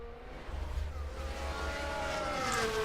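Formula 1 race cars in the F1 Manager 24 video game scream past during an overtake, engine tones sweeping and rising as the cars close in, growing louder toward the end with no talk.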